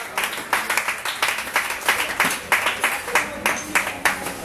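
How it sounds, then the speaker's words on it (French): An audience at a youth gala dinner applauds in steady, rhythmic bursts of clapping, lively and fairly close, continuing throughout without talk. "Qu'on l'applaudisse."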